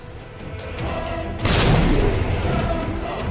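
A grenade explodes in the Resident Evil 2 Remake, one loud, deep boom that cuts in sharply over low ambient rumble and then decays into a lingering roar.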